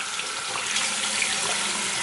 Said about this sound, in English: So I just wet a rag with lukewarm water.